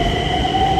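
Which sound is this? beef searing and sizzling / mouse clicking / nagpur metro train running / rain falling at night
nagpur metro train running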